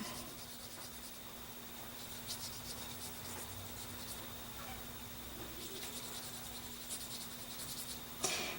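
Marker or pencil coloring in a printed paper typewriter picture, a steady soft scratchy rubbing that continues evenly throughout at close range with no talking.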